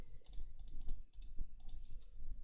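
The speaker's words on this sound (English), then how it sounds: "Rattly chains." Rattling metal chains clink in a sound effect from the Magic: The Gathering digital card game, a series of bright, clicky bursts in an uneven rhythm over a low background rumble, with no talking.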